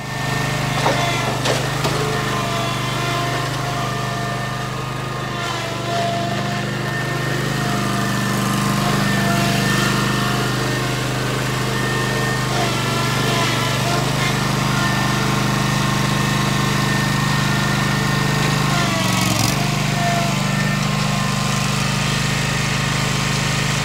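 Zero-turn mower engine running steadily at close range while the machine drives down off a curb, a constant droning hum with a few knocks and bumps as it drops.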